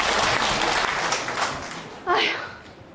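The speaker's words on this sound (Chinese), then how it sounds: "掌声欢迎。" An audience on a Chinese television comedy stage show claps and cheers at close range, a dense burst of applause that swells and then fades over about three seconds.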